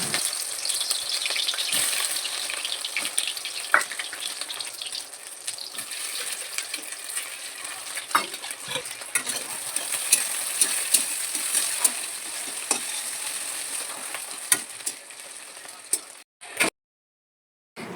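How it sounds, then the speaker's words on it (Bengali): Egg-coated soybean chunks fry in hot oil with a steady, dense sizzle and crackle, punctuated by a few sharp clicks, before cutting to silence near the end. "ভালোভাবে মেশানোর পরে গরম তেলে সয়াবিনগুলিকে ছেড়ে দিয়েছি।"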